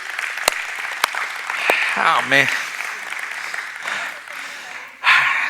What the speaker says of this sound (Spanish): Vamos, denle un aplauso a Jesús